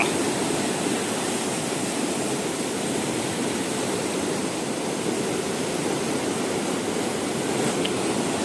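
Floodwater of the swollen Kaldhundi river rushing past, a dense, loud, unbroken roar of churning water that holds steady for the whole stretch with no voices.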